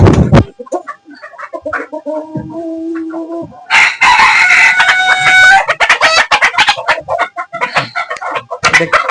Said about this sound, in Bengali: তারপরে আমরা মুরগি দেখতে পাচ্ছি।